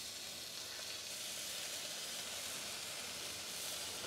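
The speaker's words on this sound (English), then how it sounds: "Just hear that sizzle." Steady, dense sizzling of meat cooking on an offset smoker after mopping with sauce, a continuous close crackle and hiss with no voices.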